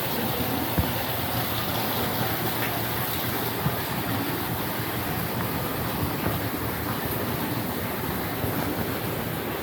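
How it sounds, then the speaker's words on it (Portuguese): Running water flows steadily through the underground rooms of the Pateo do Collegio museum, near an old fountain. It makes a continuous, even broadband rush that fills the space without pauses, with no one speaking. "Olha lá a água corrente aqui."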